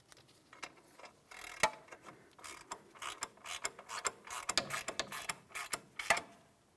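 A ratchet wrench tightens a control arm mounting nut on a 2007-2014 GMC Sierra 2500 HD pickup. Many quick, sharp clicking pulls come in irregular bursts, close and fairly quiet.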